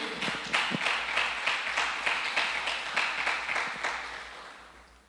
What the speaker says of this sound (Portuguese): Você pode dar um aplauso ao Senhor aí?